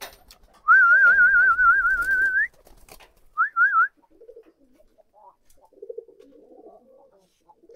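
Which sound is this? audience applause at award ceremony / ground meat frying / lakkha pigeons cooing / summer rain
lakkha pigeons cooing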